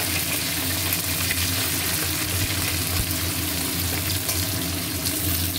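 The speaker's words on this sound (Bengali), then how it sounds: "পেঁয়াজটা ভাজতে এখন সময় লাগবে" Onion frying in oil in a wok after cumin and garam masala tempering, giving a steady, close, continuous sizzle with faint stirring and no talking.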